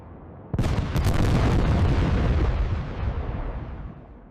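V-1 flying bomb blown up near its target by a proximity-fuzed shell: a single loud, close blast with a sharp onset, then a long rumbling decay with a couple of quick secondary cracks.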